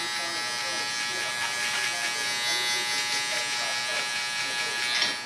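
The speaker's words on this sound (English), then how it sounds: "before I go in with my shaver" A barber's electric shaver buzzes steadily throughout, moderately loud and close, with faint bits of voice now and then underneath.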